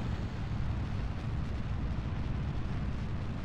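A rocket engine fires at liftoff in Kerbal Space Program, producing a loud, steady, low roaring rumble with a rough crackling texture that carries on without a break and is heard alone.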